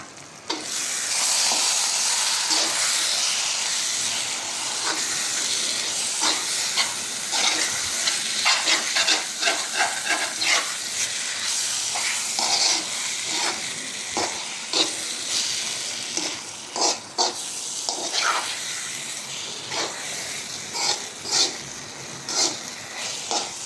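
A metal spoon stirs picklefish in a simmering pot on a cooktop, making repeated clinks and scrapes over a loud, continuous hiss and bubbling sizzle that runs throughout.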